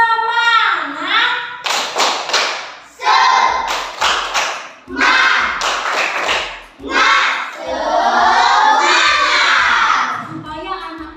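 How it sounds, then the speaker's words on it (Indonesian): A classroom of children performs rhythmic 'tepuk semangat' clapping, sharp patterned claps in quick groups alternating with loud chanted shouts from the class, all close and energetic. "Tepuk semangat lagi."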